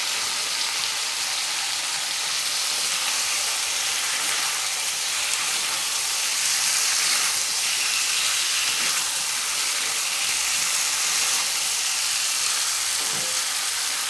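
Steady, loud sizzle of lightly pre-fried eggplant going into a simmering Bengali kholshe fish curry in a kadai, a continuous dense hiss of frying with faint stirring, no voices.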